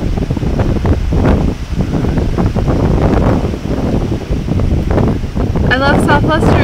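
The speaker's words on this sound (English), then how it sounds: "I get to the park and there's wind." Wind blows hard across a microphone outdoors in a park, loud and gusting without a break, while someone talks over it.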